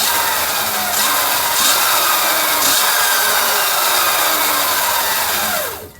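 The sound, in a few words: Sur Ron Light Bee electric motorbike given throttle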